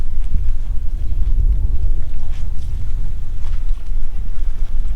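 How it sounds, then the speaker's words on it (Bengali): A boat crossing a river near where it meets the Bay of Bengal at an eco-park, its engine a steady low rumble mixed with wind buffeting the microphone, continuous and close throughout. "আমরা এই বোটে করে জাস্ট ওপার পার হয়ে যাব"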